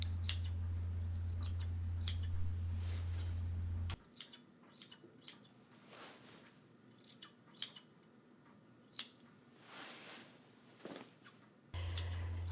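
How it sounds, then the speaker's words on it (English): Scissors clip and trim fabric around the gentle curve of a princess blouse armhole, giving a run of sharp, close snips in irregular bursts with short pauses between them, and no one speaks. "And clipping and trimming."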